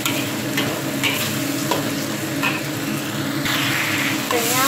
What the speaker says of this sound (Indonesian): kita masukkan petainya dulu. Kita tumis-tumis sebentar biar petainya agak layu